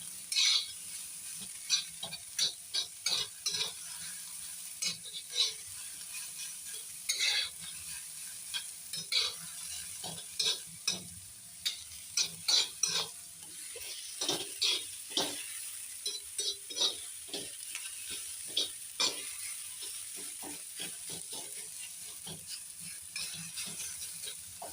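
Onions browning in a pan until crisp, with repeated scraping stir strokes over a steady soft sizzle, moderately quiet and close, no voices.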